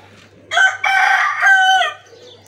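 A rooster on a rooftop lets out one loud, close, drawn-out crow that rises and falls over about two seconds against a quiet background.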